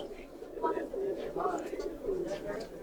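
A Pakistani Saharanpuri male pigeon gives repeated low, throaty coos close by, in a shop setting with faint background noise.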